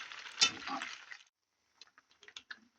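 Pizza-style pasta frying in a pan gives a short sizzling hiss with a scrape, then silence, then a few soft clicks and taps near the pan.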